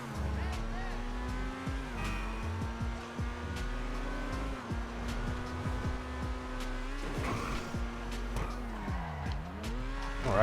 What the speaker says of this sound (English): let's go ahead and floor it, do an acceleration test here